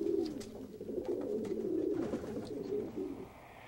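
Pigeon cooing in a low, continuous murmur that runs steadily for several seconds, fairly close and moderately loud, with no talking over it.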